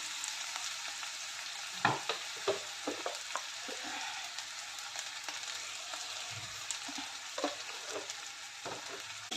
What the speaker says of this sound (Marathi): कांदा घालून चांगलं परतून घेऊया। लालसर होईपर्यंत चांगलं परतून घ्यायचं।